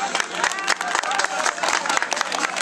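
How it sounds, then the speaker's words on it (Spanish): Guests at a quinceañera celebration in Pachecos, Sombrerete, Zacatecas clap together in a quick, fairly even rhythm, a bright continuous patter of many hands with a faint musical tone beneath. "¡Fuerte las palmas!"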